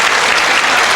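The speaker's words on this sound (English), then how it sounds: "Well, he's getting a big round of applause, Mark Jarvis is, for a gallant battle" An audience at the 1995 World 8-ball semifinal applauds a player, a dense, loud, steady round of clapping throughout.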